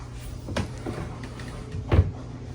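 A bedroom dresser drawer slides open or shut in a home, giving a soft scrape followed by a firmer knock near the end, close by and fairly quiet, with no talking.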